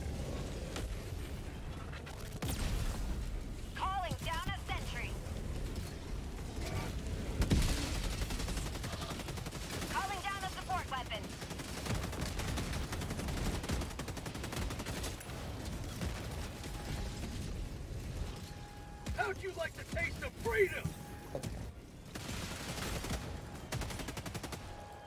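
Video game gunfire in Helldivers 2, dense overlapping bursts and rattling shots running throughout, with mechanical clanks and occasional tonal blips, loud and continuous.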